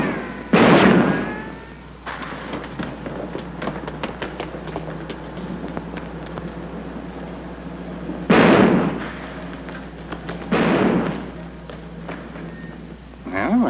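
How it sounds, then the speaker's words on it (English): Gunshots ring out at a man running away in a 1947 comedy film, several sharp loud reports spaced apart over background score and voices, with a speaker heard around the shots. "Hey, stop or I'll shoot!"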